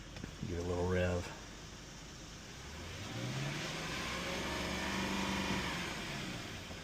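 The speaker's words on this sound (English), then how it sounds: "Give it a little rev." A Lexus LS430 V8 engine, just after an oil change, gets a quick blip of the throttle and then settles into a steady, low idle heard close by, with a voice speaking briefly over the start.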